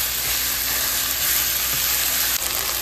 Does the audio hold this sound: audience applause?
no